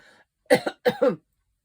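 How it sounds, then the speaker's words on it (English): Two sharp coughs close together, with a brief pause between them, loud and close, followed by silence. "So I've still got this cough"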